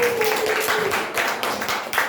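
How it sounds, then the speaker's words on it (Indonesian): A group of pupils in an Indonesian school classroom clap their hands together in a quick, steady burst of claps, close by, with voices mixed in. "Oke, tepuk tangan dulu tadi."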